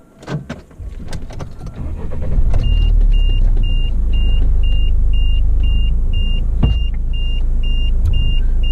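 A car's seatbelt warning chime repeats about a dozen times in an evenly spaced series of bright beeps over a steady low engine rumble, heard while a vehicle is shifted into four-wheel drive high.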